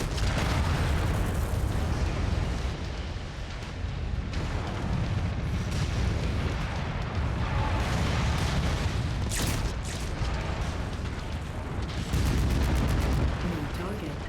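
Dense, continuous battlefield din in MechWarrior 5, with heavy booms and bursts of artillery fire and incoming missile explosions rolling on throughout, overlaid by a synthetic cockpit voice making announcements.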